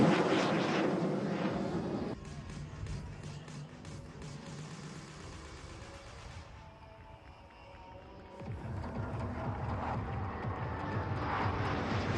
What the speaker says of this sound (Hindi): से आता हुआ एक विमान, मगर क्या ये एक विमान है या दो।